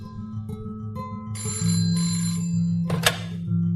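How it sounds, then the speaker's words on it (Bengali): A telephone bell rings in short, repeated jangling bursts over a background score of sustained music tones, with a sharp accent near the end and no talking. "ঠিক এই সময় টেলিফোনটা বাজল।"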